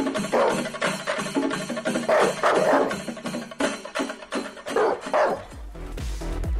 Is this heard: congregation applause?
no